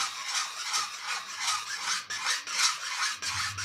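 Besan ladoo mixture for a traditional 1 kg batch being mixed by hand in a pan, a steady close rasping, scraping rub repeating in short strokes with no talk.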